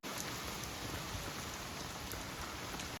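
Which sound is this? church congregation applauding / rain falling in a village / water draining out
rain falling in a village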